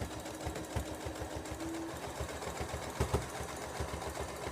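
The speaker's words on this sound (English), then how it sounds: "Set your machine on a basting stitch. And sew straight down the middle." A sewing machine runs a long basting stitch straight down a towel, its needle tapping in a quick, even mechanical rhythm, fairly faint and close by.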